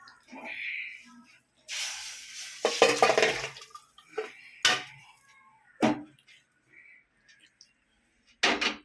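Wet pouring and splashing as lentils and water go into a metal pressure cooker, with clinks of cookware, in several short bursts separated by quiet pauses.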